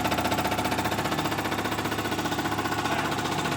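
An engine with Roosters injectors roars steadily at max power on a dyno, loud and close, with a fast rhythmic pulsing throb running through it.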